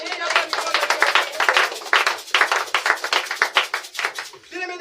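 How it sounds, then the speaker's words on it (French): A church congregation applauds, producing dense, rapid, crisp clapping that continues for several seconds with slight surges. A voice breaks in briefly near the end. "Est-ce qu'on peut acclamer pour le Seigneur?"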